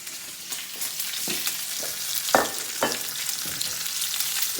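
Garlic hits a pan of lamb ragu over medium heat and sizzles, a loud continuous frying hiss with several sharper crackling bursts as it is stirred in, no voices.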